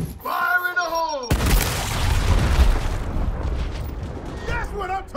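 A grenade explodes in the Gears Tactics video game with a sudden loud burst that rolls on as a broad, rumbling roar for a few seconds. Character voices are heard shouting just before and just after the blast.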